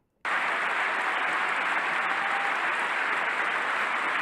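Sudden loud applause from an audience at a Trump speech breaks out and holds steady as a dense, continuous roar of clapping, with no voices over it.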